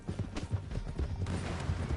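Horse hooves clip-clop in a quick, steady rhythm, fairly close, with scattered background noise and no clear talking, in a video game.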